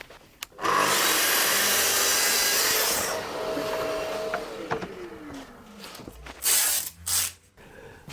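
A saw cuts through a 6mm plywood cabinet back in a dense, loud rasping run of a few seconds, followed by quieter scraping and knocks as the pieces are handled, then two short bursts of cutting.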